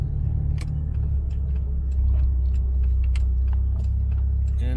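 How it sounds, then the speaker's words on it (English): A car being driven on a short trip in Japan, a steady close engine and road rumble with low drone throughout and a few light rattles or clicks, no talk. "I'm just gonna do a short drive, which I'm gonna cut probably later on."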